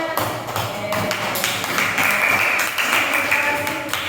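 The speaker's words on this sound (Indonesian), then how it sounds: "Tepuk tangan." Classroom applause in an elementary school lesson, a steady dense patter of many children clapping hands together for several seconds at close range, with light chatter mixed in.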